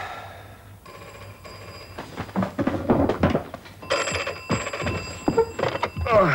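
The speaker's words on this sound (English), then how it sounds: "Nicky, I've been waiting for you to phone for hours" An old-style telephone bell rings in a domestic setting, the ringing standing out loudly in bursts over room noise and movement, with faint voices around it.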